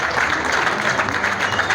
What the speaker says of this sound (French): Bravo, Standing Ovation pour eux. On les applaudit très, très,